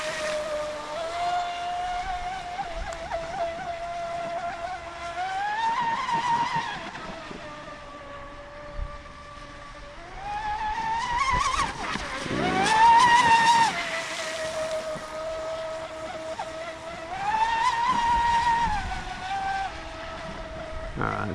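An RC boat with a 1650 40mm motor, a 175 amp speed controller and a big prop whines at speed across the water. Its high pitch rises and falls over repeated passes, moving near and far, with brief talk underneath.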